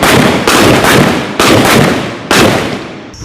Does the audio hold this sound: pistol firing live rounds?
yes